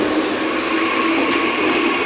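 A crowded suburban commuter train at Dahisar station in Mumbai at night gives off a steady, loud rumble and wheel noise, with a faint squealing hum running through it.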